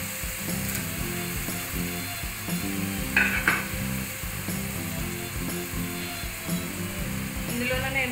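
Tomato fries in a pan for baby corn pulao, a continuous sizzle broken by quick rhythmic clicks of stirring over a steady tonal background.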